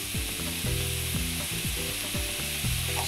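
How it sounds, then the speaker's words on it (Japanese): Seafood mix stir-fried in a pan, with a steady sizzle and a loud, continuous frying hiss broken by repeated stirring sweeps and scraping movements. Nobody speaks. "ここでしっかり炒めてください"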